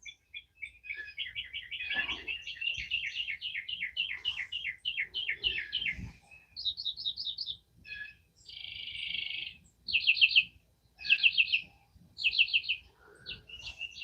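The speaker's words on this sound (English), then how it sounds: "The birds singing is what it's all about." Songbirds sing at dawn in a clear, close sequence of rapid trills and repeated chirp phrases, one bird following another with short pauses and no talking.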